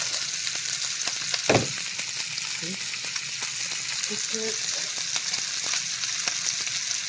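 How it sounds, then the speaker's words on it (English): A steady rushing bubble of boiling water on the stove as quick grits are stirred in, with one clear clank of a utensil against the pot and some soft stirring sounds. "You need to stir when you first put that in."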